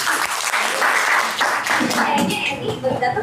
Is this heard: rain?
no